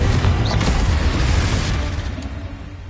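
A Confringo blasting spell explodes in Hogwarts Legacy with a loud, deep boom that rumbles and crackles before gradually fading over a few seconds, heard alone without voices.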